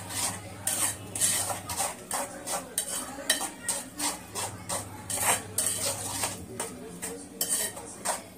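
Eggs and onions being beaten together in a bowl, a close, rhythmic series of metal clinks and scrapes as a utensil whisks against the bowl, roughly two strokes a second with brief pauses.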